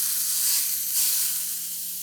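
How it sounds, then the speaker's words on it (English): Pork loin sears in hot oil in a pan, giving a loud, continuous hissing sizzle that swells slightly then settles, close by and alone without speech. "So you're going to sear each side for about a minute or two."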